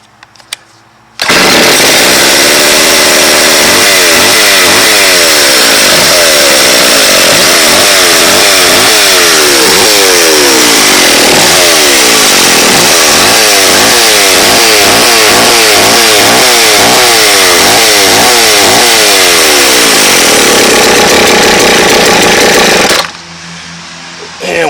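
A McCulloch chainsaw engine runs loud and close for about twenty seconds, its two-stroke buzz rising and falling through repeated revs before settling toward a rough idle, then cutting off.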